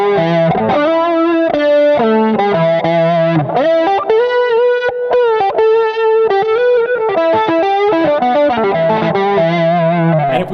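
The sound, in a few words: electric guitar through Archetype plugin, amp snob setting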